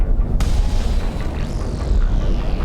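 A Xenon capital ship blows up in the space game X4, heard as a sharp crack followed by a deep, rolling explosion rumble that carries on loudly for several seconds.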